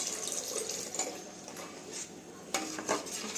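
A spoon stirs jackfruit pieces simmering in thin coconut milk in a pot for payasam, giving soft scraping and clinking against the metal with light liquid sloshing, a few sharper knocks near the end.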